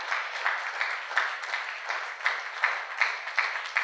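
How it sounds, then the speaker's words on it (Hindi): A church congregation claps together for a few seconds, a dense steady patter of many hands with rhythmic peaks, moderately loud and slightly distant, with no voices over it. "क्यों ना एक और बार तालियां बजाएंगे यीशु मसीह के लिए।"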